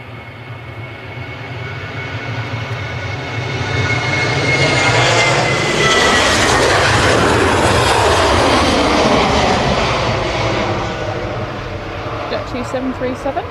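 Jet2 Boeing 737 jet taking off from Manchester Airport runway 23L early in the morning, a loud roar building and peaking mid-clip then easing, with a sweeping whine over the rumble.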